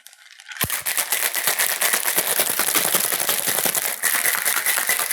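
Ice rattles rapidly and steadily inside a cocktail shaker, a loud, continuous shaking that starts abruptly and carries on without pause.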